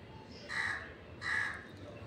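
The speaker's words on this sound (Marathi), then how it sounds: "ते कावळा बी समोर आला एकदम" A nearby crow gives two harsh caws in quick succession, clear over a faint outdoor background.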